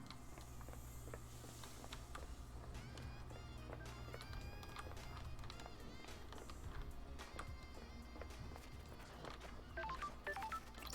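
In the video game Paradise Killer, a phone beeps in scattered short electronic tones and brief melodic runs over a low droning backdrop, with soft clicks and thuds throughout, quiet overall.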